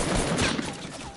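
Pistol fire in Fortnite, a quick cluster of sharp shots packed into a brief burst at close range, with no talk over it.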